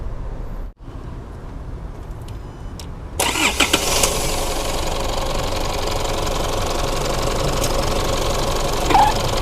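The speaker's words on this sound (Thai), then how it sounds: "เดี๋ยวเราลองไปสตาร์ทดูเลยว่าสตาร์ทเป็นยังไง" An Isuzu MU-7 Primo Platinum SUV engine cranks and catches, then settles into a steady, rumbling idle that continues close by without talk.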